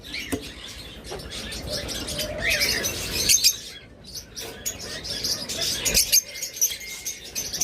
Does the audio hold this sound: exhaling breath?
no